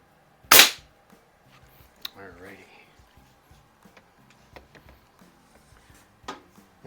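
A single sharp, loud crack of a CO2-powered air rifle, a Beeman QB78S or AR2078 bolt-action in .177, followed by quiet handling clicks and faint rustling.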